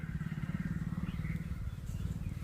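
A motorcycle engine putters at a low, steady rhythm nearby, its throbbing drone holding fairly constant for a couple of seconds.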